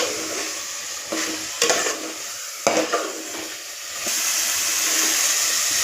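Masala of red chilli powder sautéing in oil in a pan for a chicken gravy, a hissing sizzle with a few stirring scrapes, growing into a louder steady hiss toward the end.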